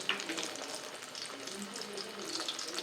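Urad dal appalam samosas fry in hot oil, giving a faint, steady sizzle and bubbling with small crackles throughout.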